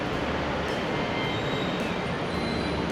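Steady rumbling roar of an MRT metro train in a station, continuous and fairly loud, with faint high squeals from the wheels.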